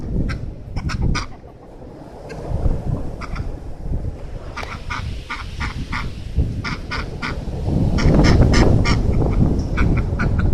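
Chickens and ducks eat cracked corn outdoors on a windy day, giving repeated nearby quacks and honking calls over steady gusty wind rumble.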